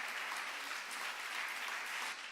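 Audience applause at a literary gathering in Pontevedra, steady dense clapping from a crowd sustained throughout without a break.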